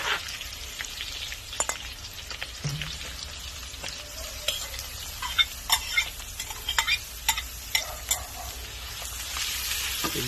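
Garlic and chicken sautéing in a pan for pancit made with Korean noodles, a steady sizzle and fry with repeated stirring and utensil scrapes against the pan, close and moderately loud throughout.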